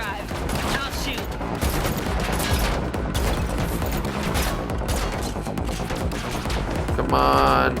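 Dense, sustained automatic gunfire from The Matrix Awakens Unreal Engine 5 game rattles in nonstop volleys during a driving chase, with a brief voice cutting in near the end.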